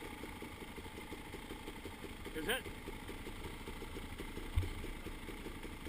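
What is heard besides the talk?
vehicle engine idling low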